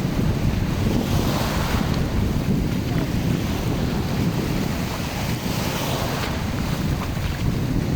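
Rough sea surf pounds the shore at Al Jassasiya beach in Qatar, a loud, continuous roar of breaking waves mixed with wind buffeting the microphone, with no voices for the full stretch.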